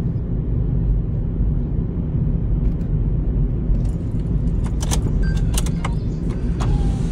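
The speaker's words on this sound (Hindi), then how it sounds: "थोड़ा सा आगे जाके दूर गाड़ी खड़ी करता हूं मैं" A car engine rumbles steadily and loudly at close range as the vehicle drives ahead to park in a busy market area, with a few faint clicks and rattles near the end.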